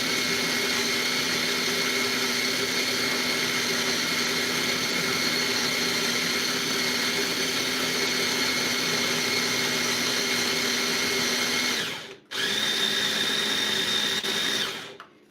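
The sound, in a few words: small blender running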